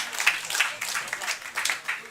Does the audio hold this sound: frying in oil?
no